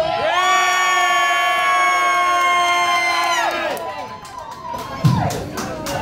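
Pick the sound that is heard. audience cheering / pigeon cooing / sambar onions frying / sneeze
audience cheering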